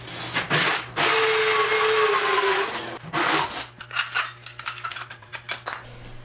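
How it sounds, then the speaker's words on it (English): A Makita 40-volt drill with a hole saw whines steadily for about two seconds as it cuts ventilation holes, then gives way to short, irregular bursts of cutting and rattling close by. "I have the 40-volt line of the Makita system with the hole saw."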